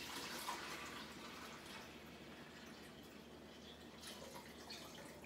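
Water poured by hand into the top reservoir of a Silonn SLIM02 countertop ice maker, a faint, continuous splashing trickle that fades slightly as it goes on, heard alone without talking.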